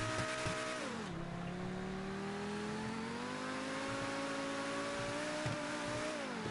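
A car engine revs steadily in a racing game, its pitch dipping sharply then climbing slowly and evenly, loud and continuous with no talking.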